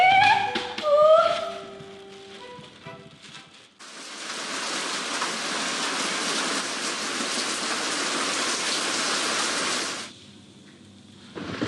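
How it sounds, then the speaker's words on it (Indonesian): Heavy rain pours in a steady, loud broadband roar for several seconds, cutting off abruptly after a stretch of music and tones at the start. "Mana hujan lagi."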